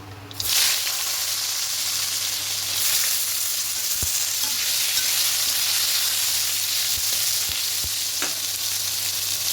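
Cut eggplant pieces dropped into hot oil seasoned with black cumin, setting off a loud burst of sizzling that settles into a continuous close, steady frying hiss, with a few faint clicks.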